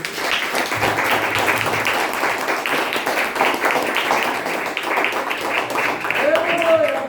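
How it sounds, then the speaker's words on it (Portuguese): A church congregation claps and applauds during a worship service, a steady crackling wash of many hands with voices mixed in underneath and a brief cry rising near the end. "Aplauda o Senhor com alegria"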